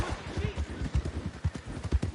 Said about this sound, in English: Fine horse you got there